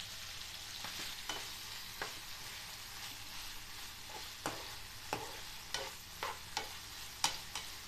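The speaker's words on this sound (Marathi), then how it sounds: "त्याच्यामध्ये मी आता टॉमॅटो घालते" Liver masala (kaleji) sizzles softly in a pan as tomatoes are added and stirred, with a steady frying hiss beneath sharp, scattered scrapes and clinks of the spoon.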